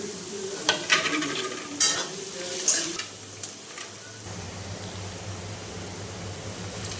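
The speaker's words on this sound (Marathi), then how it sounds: "त्यामध्ये सर्व चिरलेल्या भाज्या टाकून दोन ते तीन मिनिट छान परतून घ्यायचे आहे" Chopped vegetables fry in hot oil with ginger garlic paste for fried rice, bright sizzling bursts and spatula scrapes in the first few seconds, easing into a steadier lower crackle under a faint hum.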